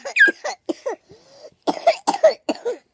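A child coughs in a series of short, sharp bursts, clustered into two groups separated by a brief pause, close and clear with no other sound.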